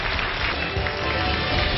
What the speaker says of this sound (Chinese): 我们掌声请出她的男友